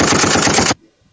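A rapid burst of automatic gunfire, loud and close, firing in a steady stuttering rhythm for under a second before cutting off abruptly to near silence.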